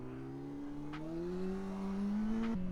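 A car engine revs steadily through a rolling burnout, its rising drone climbing in pitch and dropping briefly near the end, fairly close.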